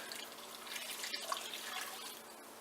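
Water pours steadily from a tap into a pot of bean soup with bay leaves, a continuous splashing hiss at moderate level, heard alone with no talk.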